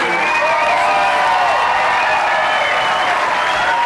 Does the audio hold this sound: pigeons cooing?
no